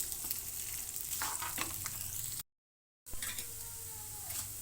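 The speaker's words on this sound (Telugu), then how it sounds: "చక్కగా ఫ్రై చేసుకోవాలి" Ginger frying in a pan for hotel-style ginger chutney, a faint, steady sizzle with light stirring scrapes, broken by a brief silent gap midway before the sizzling resumes.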